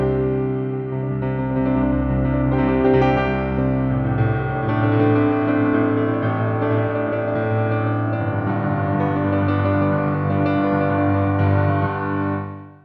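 Solo piano playing the live-version ending of a song, full chords rocked back and forth between both hands, loud and steady before a final fade, with no talking.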